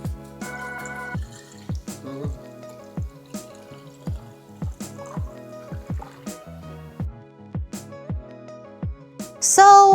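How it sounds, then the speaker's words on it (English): Homemade oat milk strained through a strainer drips in a steady series of close, distinct plinks, with soft music underneath. "I'm gonna go ahead and strain it one more time"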